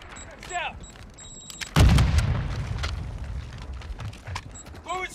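A grenade detonates in a first-person multiplayer shooter, a sudden loud boom followed by a rumbling decay, with scattered gunfire and game chatter before and after.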